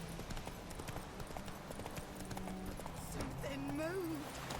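Hooves of Roach, a horse in a video game, beat a quick galloping clip-clop under game voices and music, ending in a whinny.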